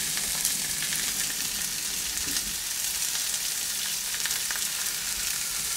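A sausage McGriddle cooks on a Blackstone griddle over low heat, with an even, close, steady hiss of sizzling and no talking.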